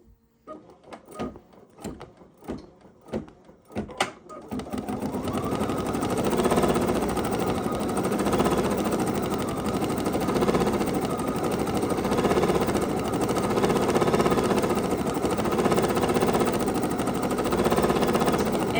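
An embroidery machine, threaded for regular sewing, gives a few sharp clicks, then stitches in a steady, close, fast mechanical chatter that continues without a break.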